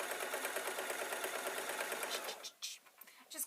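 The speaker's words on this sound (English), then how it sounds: "I'm going to get the sewing machine to do that little bit, and then everything is gathered in." A sewing machine stitches fleece fabric to gather it, running in a steady fast whir for over two seconds, then slowing and stopping, leaving a few brief quieter handling noises close by.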